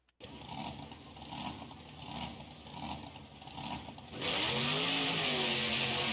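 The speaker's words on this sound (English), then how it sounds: "these are the stock Monster Jam sounds that all the base mod presets should spawn with" Stock Monster Jam truck engine in BeamNG.drive, starting with a lumpy, pulsing idle that swells in waves, then jumping abruptly to a loud, steady high-rev roar for the final seconds.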